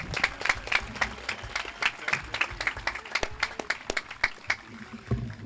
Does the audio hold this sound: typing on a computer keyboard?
no